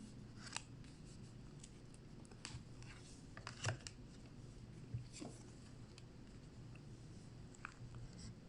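Tarot cards being shuffled before a nine-card love reading, a quiet, steady papery rustle with soft riffling flicks and a few sharper snaps over a low background hum.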